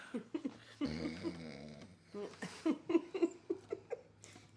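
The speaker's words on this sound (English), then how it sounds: "Snoring pit bulls." A pit bull snoring in a steady rhythm of short nasal snorts, close by and fairly quiet, with a person's voice briefly heard in between.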